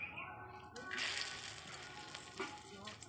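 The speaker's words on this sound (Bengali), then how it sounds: "কড়াই গরম হয়ে গেছে, তেজপাতা, শুকনো লঙ্কা আর কালো জিরা, দুটো এলাচ" Bay leaf, dried chilli, black cumin and cardamom hit hot oil in a kadai, a broad crackling sizzle that flares up and stays steady and close, with soft voices talking faintly underneath.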